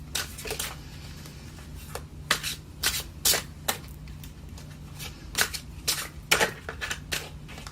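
Tarot cards are shuffled by hand in repeated riffling bursts, crisp papery flutters and taps coming in short irregular clusters, close and fairly quiet, with a low steady hum underneath and no talking.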